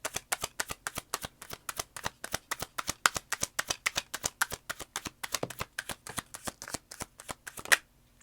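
Tarot cards are shuffled close by in a steady run of crisp riffling flicks, about three per second, for most of the stretch. A soft slap of cards dropping comes near the end.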